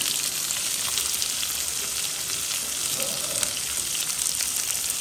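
Chopped onion sizzling in hot oil in a pan for Sri Lankan-style crab curry, a steady, dense frying hiss that holds even and close throughout, with no talk.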